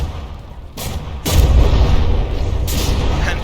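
Deep booming cannon volleys from warships in the naval combat game From the Depths crash out in several heavy blasts, each followed by a rumbling roar, loud and close with no talk over them.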